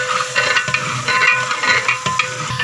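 Boiled chickpeas stirred into fried onions in a pan for a village-style degi chana pilao, a steady close scraping and soft sizzle with a few sharper stirring knocks, no talk.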